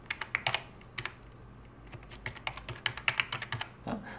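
Keys on a computer keyboard are tapped in quick, uneven clusters of crisp clicks, close and fairly quiet, while a word is typed into an image editor, without any speech.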